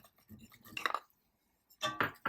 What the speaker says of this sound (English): now I'm going to add the shallots, the onion, the apples